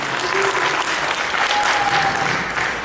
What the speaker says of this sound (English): Can you give a round of applause for them, please?